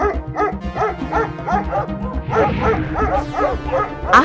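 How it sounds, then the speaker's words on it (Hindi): Stray dogs bark in an animated Hindi children's story, with a loud, close pack letting out repeated sharp barks and yips in a steady, overlapping rhythm. "उसके पीछे आवारा कुत्ते पड़ गए"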